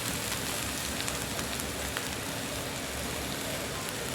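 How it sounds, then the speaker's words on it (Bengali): Arum leaves hit hot oil with cooking chicken and sizzle, a dense, even crackling hiss that stays steady and close throughout, with no talking. "এবার ওর মধ্যে কচু শাকগুলো দিয়ে দিচ্ছি।"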